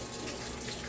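Shower water running: a soft, steady hiss of spraying water, faint and even for the whole moment, with no voices over it.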